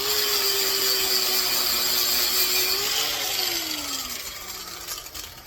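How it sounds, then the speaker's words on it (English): A soft wire wheel on a power tool scrubs grime from the screw head of a Hungarian Soviet entrenching tool. The steady, close grinding whir runs throughout, then its pitch drops and it fades as the wheel spins down. "I'm going to take a wire wheel with a soft wheel on it,"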